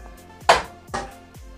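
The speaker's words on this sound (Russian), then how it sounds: "сейчас я достаю противень." A metal baking tray comes out of a cooled oven with two sharp metallic clanks about half a second apart, close and fairly loud against a quiet background.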